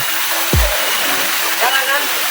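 Curug Ciangin waterfall, with mist settling around it, pours as a constant broadband rush in the background, while a brief low thump and faint voices pass over it.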